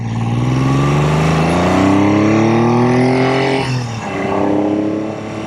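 A Triumph T160 Trident three-cylinder motorcycle engine under riding load, its loud, close exhaust note rising steadily in pitch through a gear, then dropping abruptly at a shift and climbing again.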